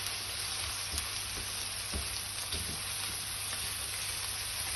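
Mince sizzles steadily in a hot pan as it browns for a Middle Eastern stuffed eggplant dish, a constant close frying hiss with a few soft knocks from stirring.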